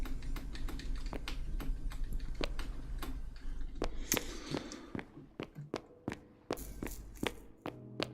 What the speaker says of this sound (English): Now I've got my mic on, I expect you can hear my keyboard.